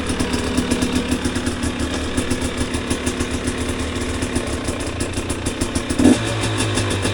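A KTM motorcycle engine fitted with a replacement Tusk clutch idles close by with a steady pulsing rumble, then a sharp clunk near the end as a gear engages and the engine note drops lower.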